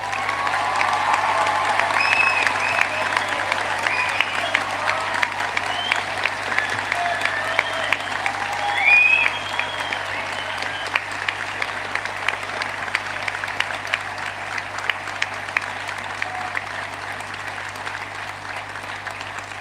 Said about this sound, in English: a final round of applause to congratulate our graduates